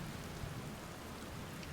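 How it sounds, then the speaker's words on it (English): Steady rain falling in the video game Outer Wilds, a dense, even hiss of drops on surfaces with a low rumbling undertone, continuous and moderately loud throughout. "It's a good thing I never got bored of rain, huh?"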